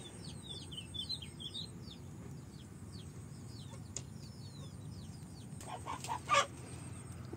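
Country hens on an organic farm make soft, quiet clucks and short chirping calls in a calm rural setting, with a brief louder flutter or squawk near the end.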